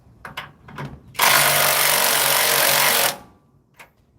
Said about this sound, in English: use a size too small socket